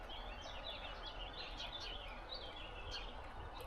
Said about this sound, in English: Just the birds singing, and Gala on the move on her own